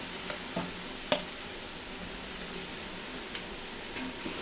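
Ginger garlic paste dropped into hot oil for mango avakaya pickle, giving a soft continuous sizzling hiss with a few sharp pops and ticks as it froths, fairly quiet and with no talk.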